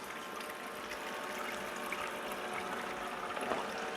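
A thin stream of water poured off blended Tabasco peppers, pouring steadily from a blender with a gentle trickling, bubbling sound and faint clinks, quiet and close.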